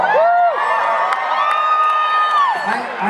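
A FanX convention panel audience cheers and whoops loudly for Buzz Aldrin, with a sustained crowd roar and high shouts throughout.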